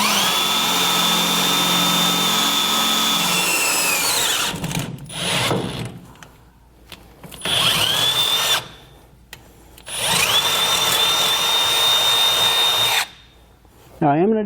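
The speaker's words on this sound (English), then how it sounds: "So we're going to start out with a smaller drill bit." A power drill with a small bit bores a pilot hole during a gooseneck hitch install under the bed of a 1996 Ford F-250, whining in several loud, sustained bursts separated by pauses with brief talk between.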